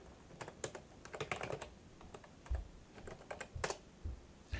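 Quick, light clicking of keys on a computer keyboard, irregular bursts of typing with soft thumps, close and quiet with no talking.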